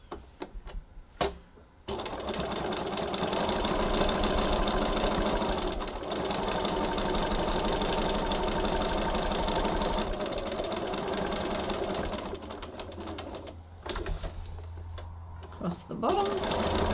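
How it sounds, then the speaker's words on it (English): A sewing machine stitches down the slip pocket of a tote bag, running in a long fast rattling burst after a few single stitches, then stopping and starting again in short runs near the end. "and now I'm stitching back down"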